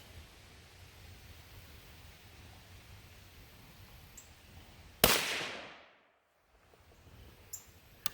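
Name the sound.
gunshots from a restored Stevens 44 rifle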